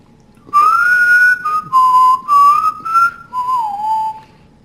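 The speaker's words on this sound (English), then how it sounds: "Whistle." A person whistles a short melodic tune, loud and close, in four or five sustained phrases with brief pauses between them, alone against a quiet background.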